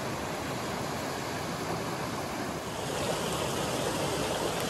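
Hell Hollow Brook flowing steadily over rocks on the Appalachian Trail, a loud, continuous rushing wash of water close by, unbroken and without voices.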